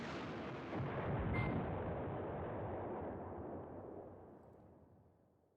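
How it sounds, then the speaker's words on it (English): Artillery fire in the Command Ops 2 war game set in Poland in 1939 in the Beskid Mountains, one deep, heavy blast that swells briefly and then rolls away in a long fading rumble, with no voices. "Keep the artillery in action."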